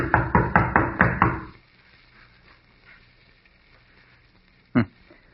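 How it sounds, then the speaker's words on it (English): Heavy pounding on a door in a radio drama, about seven loud rhythmic knocks in quick succession, then near silence and one final thud. "Pounding on the door isn't going to do any good either."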